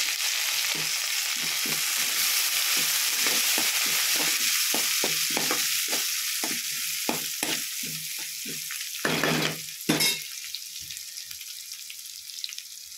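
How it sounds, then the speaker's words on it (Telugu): Bay leaves tossed into hot oil for palak paneer, with curry leaves already in the pan, sizzling and spitting steadily while a spoon scrapes and stirs in bursts, closing with a couple of louder clattering stirs. "ఇప్పుడు మనం దీనిలో కడిగి పెట్టుకున్న బిర్యానీ ఆకులు 2 వేసి కలుపుతున్నాం"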